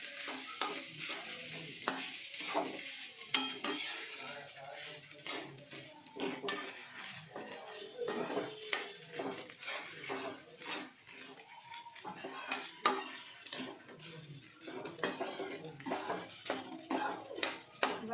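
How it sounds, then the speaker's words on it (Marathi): Spoon clattering against a pot while a jaggery tea mixture is stirred, with uneven scraping and clinking strokes, fairly close and continuous, plus faint sizzling underneath. "त्यात टाकून शब्द टाकून द्यायचे सगळं मिक्स करून घ्यायचं"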